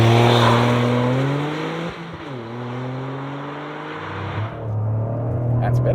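A 2023 Toyota GR Corolla engine revs hard and drops through gear changes as it launches with a slipped clutch, loud and close, its pitch climbing and falling repeatedly.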